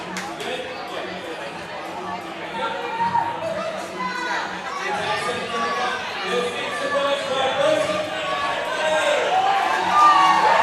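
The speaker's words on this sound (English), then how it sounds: "Crowd is getting loud." Loud crowd chatter and cheering fill an arena at a fitness competition, a continuous mass of voices that swells and grows louder toward the end, with a commentator talking over it.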